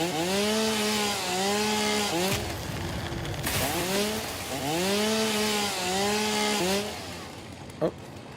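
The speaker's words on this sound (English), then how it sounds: "the chainsaw's kind of satisfying, but I feel like it's a little too slow" A chainsaw in the video game Satisfactory cuts steadily, its engine whining in rising and falling sweeps across several long passes, loud and continuous with a brief break in the middle.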